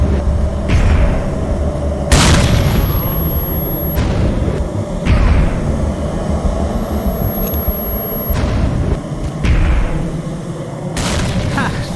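Explosions in S.T.A.L.K.E.R. used to kill a controller: several heavy booms with rumbling tails spaced through the clip, over steady background ambience, with brief high electronic tones in between.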